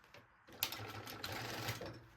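A sewing machine stitches a strap on a handmade baby backpack, a steady close whirring run that starts after a brief quiet moment and carries on without speech.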